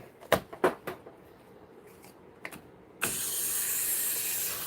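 A spray bottle's trigger clicks a few times before a sustained, close hiss of mist sprays onto a paper towel being wrapped around a bowl, with no talking.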